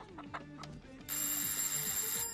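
A telephone rings repeatedly on a call attempt in a Turkish TV sitcom household scene, steady ringing tones running throughout with a brighter, louder ring in the second half, no talk over it.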